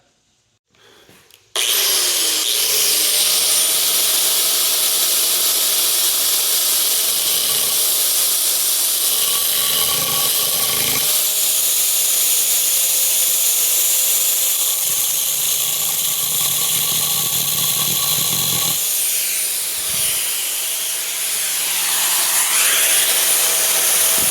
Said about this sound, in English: We're going to hit this with the angle grinder.